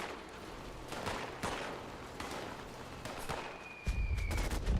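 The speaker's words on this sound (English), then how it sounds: "Everyone's shooting me." Repeated gunshots ring out in the snowy Fallout 76 video game, a series of sharp cracks at irregular intervals over a steady noisy background, with a heavier burst of fire near the end.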